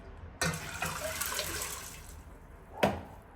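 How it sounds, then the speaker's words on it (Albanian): Water splashes and pours steadily into a cooking pot of beans, a sharp splash at the start and another near the end. "Shtojna në tenxhere, shtojna ujë."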